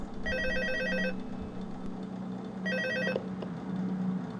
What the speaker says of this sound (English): Also, just like the first game, we start each night with a phone call.